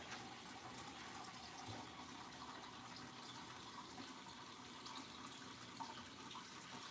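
Running tap water filling a cooking pot in a home kitchen, a steady, even rush of water that stays faint and unbroken throughout.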